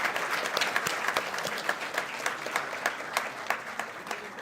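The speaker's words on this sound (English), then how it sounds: "Please join me giving a big round of applause for all the PhD graduates" An audience applauds PhD graduates at a chemistry convocation ceremony, steady many-handed clapping with a few sharper individual claps standing out, heard at a moderate distance and fairly soft.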